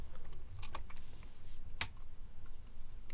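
Typing on a computer keyboard: a short run of crisp, close key clicks with irregular rhythm over a low background hum.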